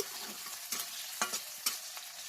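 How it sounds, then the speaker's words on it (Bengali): Chopped onions and slit green chillies frying in a pan for a mutton curry, a soft steady sizzle broken by a few sharper stirring scrapes, quiet and with no one talking. "দেওয়ার পরে খানিকটা ভেজে নিচ্ছি।"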